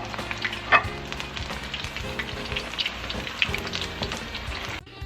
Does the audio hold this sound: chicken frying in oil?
yes